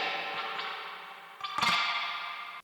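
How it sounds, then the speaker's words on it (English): Electric guitar notes through a vintage 1961-1963 Fender 6G15 reverb unit, drenched in splashy, dripping spring reverb, with a sharp twang midway that blooms into a metallic, echoing wash before cutting off. "its characteristic drip sound became a classic in electric guitar"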